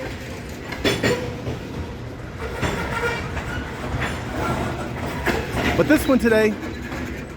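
A grain freight train rolls past on tracks crossing a pedestrian path in a metropark, with rhythmic clickety-clack of wheels, rumbling cars and a brief wheel squeal near the end, while someone talks over it.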